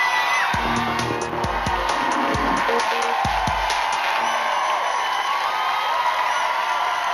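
A TV studio audience at the Big Brother 2002 live final cheers loudly and continuously, with whoops, screams and a run of sharp rhythmic claps or bangs early on before the noise settles into a steady roar.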